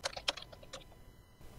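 Code being typed on a computer keyboard: a quick run of crisp, close key clicks with a few louder strokes, then the tapping stops and only faint room tone remains.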